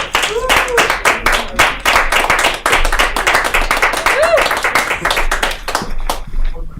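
Clapping from a comedy show audience as a comedian is introduced, sharp claps in an irregular patter with brief voices mixed in, loud and close throughout.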